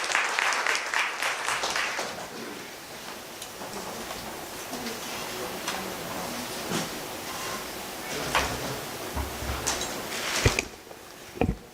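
Audience applause at a Marathi astrology convention session, sustained clapping from a seated crowd that swells and then thins into scattered claps before fading.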